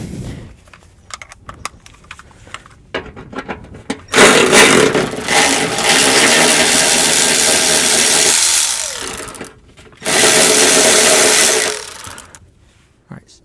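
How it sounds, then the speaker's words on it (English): An electric ratchet whirs in two long sustained bursts on a rusty airbox bolt of a GM OBS Chevy/GMC truck with a 6.5L diesel, preceded by scattered clicks and handling noises close up. "it might be too much rust for the electric ratchet"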